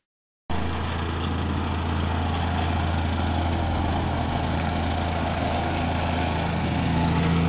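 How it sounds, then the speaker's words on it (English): A ground tamper pounds soil to firm it before a concrete pool slab is poured, producing a loud, steady engine drone with a rapid low thumping that starts suddenly and runs on without a break. "He's tamping down the ground, making it more firm so that it won't settle, hopefully, anymore."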